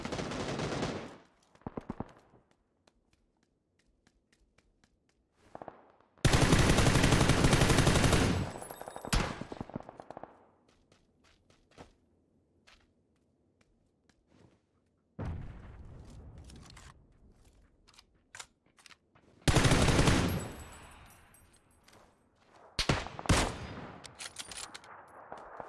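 Loud bursts of machine gun fire in a video game, arriving in several separate long volleys with near-silent gaps between them and shorter single shots scattered around.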